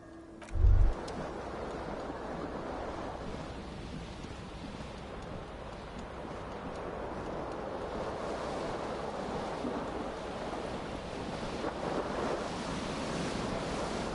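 Ocean waves and wind in the video game Disco Elysium, a steady wash of surf with gusting wind noise that holds at an even, moderate level after a short thump at the start.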